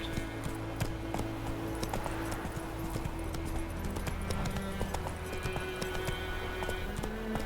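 Geralt's horse Roach gallops in The Witcher 3, a steady, rapid clip-clop of hooves running continuously over a low ambient hum, close and moderately loud with no speech.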